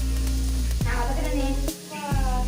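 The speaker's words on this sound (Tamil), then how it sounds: "ஆனியன் ஆட் பண்ணலாம். பார்த்து போடுறோம். எனக்கு கூட நான் வதக்குறேன்." Chopped onion sautés in a pan for a spicy egg masala curry, giving a steady close sizzle broken by a few sharp utensil clatters and a brief dip near the end.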